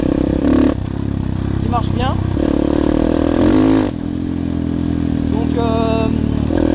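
A small 190 Biky Z2 enduro motorcycle engine runs close by with a steady droning idle and slight revving, under someone talking throughout.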